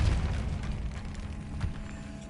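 Depulso spell blast in Hogwarts Legacy, cast inside an eerie tomb: a loud, low booming burst at the start that trails into a rumbling, noisy tail under faint ambience.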